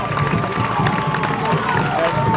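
A high-school football crowd at a 1994 game between LHS and Circleville sends up a steady, dense roar of cheering and shouting, loud and sustained, with indistinct voices mixed in.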